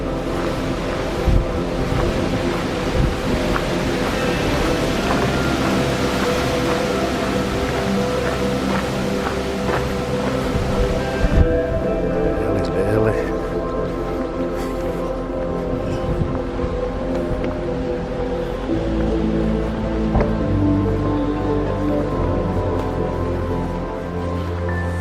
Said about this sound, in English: That wind certainly got up from this morning, hasn't it?